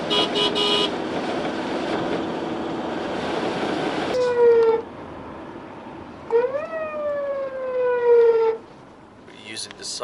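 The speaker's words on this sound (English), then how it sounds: "We're using the sirens to move out of the way." Vehicle siren used to clear traffic behind a truck at the Iran–Pakistan desert border crossing: two loud rising-and-falling wails in the second half, following a stretch of engine rumble and road noise.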